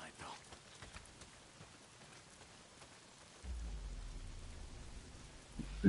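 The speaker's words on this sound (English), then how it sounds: "Well, not if it's pissing down rain." Heavy rain in the video game Days Gone makes a steady, soft hiss, with a low rumble swelling in the second half.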